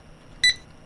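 A single sharp, loud electronic beep in the horror game Dread X Collection 5, brief and high-pitched, standing out against a quiet background.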